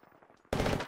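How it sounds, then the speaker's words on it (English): Rapid automatic gunfire erupts in a loud burst from a firefight in the video game Apex Legends, cutting in abruptly after a quieter stretch of distant low thumps. "You can hear them shooting, right?"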